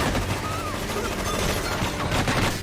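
Pistol gunfire rings out in a yakuza stronghold shootout scene from the 2007 action-thriller crime film War, starring Jet Li, as a dense, loud clatter of shots blended with a busy soundtrack.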